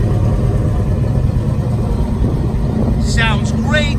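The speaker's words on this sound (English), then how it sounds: "Listen to that original 425." A 1965 Oldsmobile Starfire convertible's original 425 V8 rumbles steadily at idle, a deep continuous throb, with a couple of faint squeaky chirps near the end.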